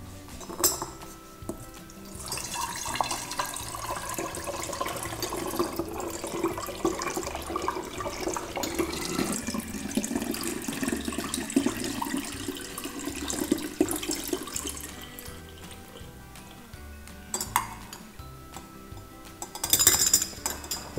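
Coconut kefir mixed with orange juice is poured through a funnel into a bottle, a steady trickling and gurgling stream of liquid with light clinks of glass, fading out before a final short splash.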